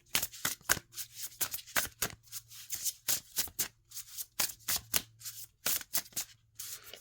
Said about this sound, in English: These cards are shuffling a lot easier.